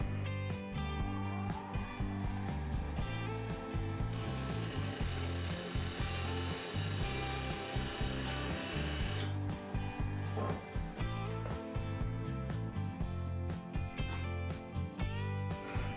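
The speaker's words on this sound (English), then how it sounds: "I'm going to use a peeling cut with my skew chisel." A skew chisel takes a peeling cut on wood spinning on a lathe, giving a continuous close scraping and shaving sound over the steady hum of the machine, with a bright high whine in the middle stretch.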